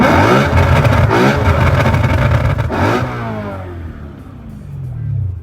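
A BMW E93 M3 with a modified aftermarket exhaust revs hard, loud and close, a raspy sustained roar that cuts off, then trails into a falling burble and a short final blip.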